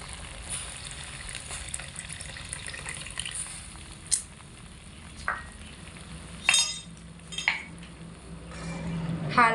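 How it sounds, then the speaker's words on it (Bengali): A spoon stirs papaya chutney just after tamarind water goes in. Several sharp scrapes and clinks come at uneven intervals over a quiet, steady simmering hiss. "হালকা একটু চামচের সাহায্যে নেড়ে চেড়ে দেব।"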